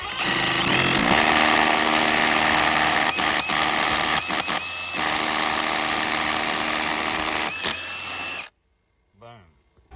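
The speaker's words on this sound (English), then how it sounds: "when you're running a hammer drill, let the hammer do the work" A hammer drill bores into brick with a loud, continuous rattling hammer for about eight seconds, cutting off abruptly before someone briefly speaks in the quiet.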